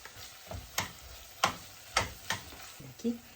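Tomato paste frying with beetroot in a pan, with a large spoon stirring: a low sizzle beneath five or six sharp scraping strokes at a steady, unhurried rhythm, close and moderately loud.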